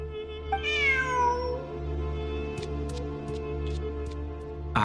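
A cat in the video game Genshin Impact gives one clear, drawn-out meow, followed by a few faint clicks over a steady low hum.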